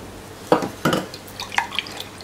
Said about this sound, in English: Mix it in for the sugar to dissolve.